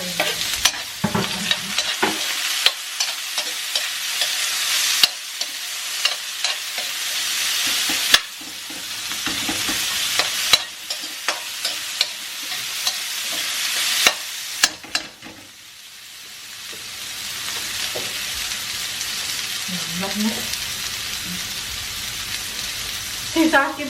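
Garlic, ginger and white onion frying in a pan: steady loud sizzling with repeated scraping stirs at close range, quietening to a softer crackle toward the end, with a voice faintly heard at times.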